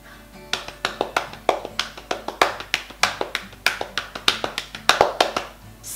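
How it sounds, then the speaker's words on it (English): Rapid lap-clapping of sixteenth notes as children's body percussion, sharp even pats in a steady run of about four per second, close and clear with no talking. "Now we're going to clap our semi-quavers, 16th notes, on our laps like this."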